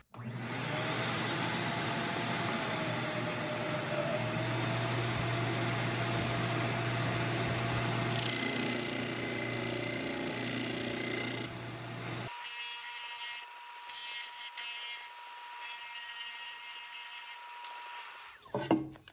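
A 12-inch bench disc sander grinding wood with a shop vac roaring alongside: a steady, loud broadband whine for about twelve seconds, then the sander cuts out and a quieter whir winds down to a brief clunk at the end.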